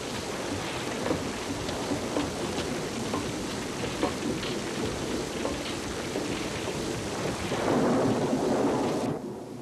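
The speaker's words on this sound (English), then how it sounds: "Come on in out of the rain!" Steady heavy rain hisses throughout with low rumbles of thunder, swelling slightly louder near the end before dropping off.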